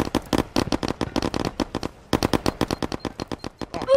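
Rapid automatic gunfire in Firewall Zero Hour rings out in close, loud bursts of evenly spaced shots, with a brief pause in the middle before another long burst.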